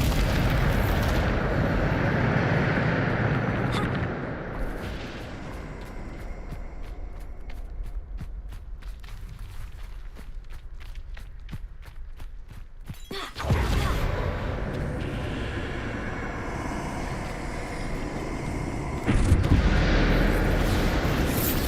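A Bombarda blast spell in the video game Hogwarts Legacy: a loud booming burst, then a quieter stretch with soft footsteps, followed by further rumbling explosive bursts near the end.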